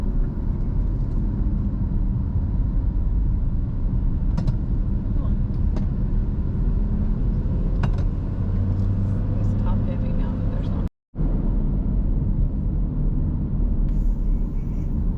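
Car engine droning steadily while climbing a winding Appalachian mountain road in fall, a constant near rumble of motor and road noise with a brief cut near the end.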